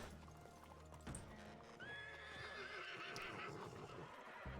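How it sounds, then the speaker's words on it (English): Horses in the western game Red Dead Redemption 2 (RedM roleplay) give a long, clear whinny over a steady clip-clop of hooves, with ambient outdoor noise underneath. "There are horses out here."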